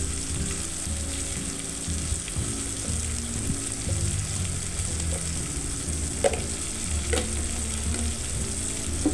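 Spiced masala rice frying in a pan gives a continuous close sizzle with occasional scrapes and clinks of a spoon stirring, no voices present.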